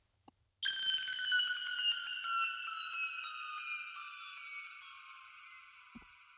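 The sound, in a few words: synth square wave falling pitch, fast LFO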